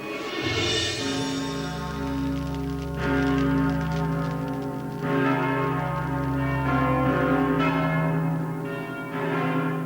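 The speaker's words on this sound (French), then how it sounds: "On entend sonner les cloches." Church bells, including the Notre-Dame bourdon, ring out loudly in repeated, overlapping peals, their long tones hanging and blending as new strikes come in.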